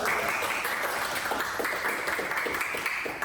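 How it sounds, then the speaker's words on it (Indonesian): A crowd applauds with steady, dense clapping that continues throughout. "sebentar kita tepuk tangan ya untuk mereka"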